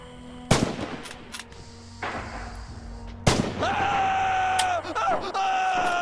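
Heavy gunfire in the Red Orchestra 2: Heroes of Stalingrad battle game, loud sharp shots cracking at two moments with lingering echoes and rumbling combat noise, a sustained mechanical drone behind.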